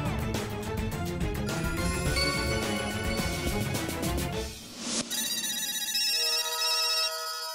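Several telephones ring at once, their electronic ringtones overlapping in a dense, repeating chorus before cutting away to a single clear tone pattern near the end.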